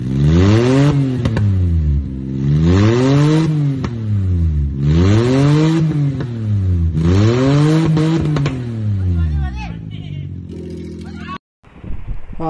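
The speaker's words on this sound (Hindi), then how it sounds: "अभी आपने इस कार का एग्जॉस्ट सुना, एग्जॉस्ट की साउंड सुनी" A modified Maruti van's exhaust revving repeatedly, loud rising and falling engine blips in a regular rhythm of about six revs, ending with a brief cut and a short restart.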